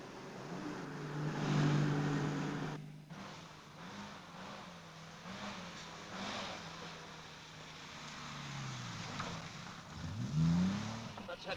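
A car engine runs nearby in an old drama scene, a steady low hum with a rising rev near the end, continuous under outdoor ambience.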